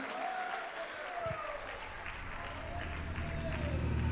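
A church congregation applauds during a Portuguese-language sermon, a steady wash of clapping from many hands in a reverberant hall, with a preacher's voice carrying over it.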